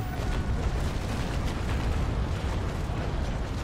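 Ship cannons fire in the naval battle game Naval Action, a dense, rumbling barrage of booms and bursts blending into a continuous loud roar with no voices.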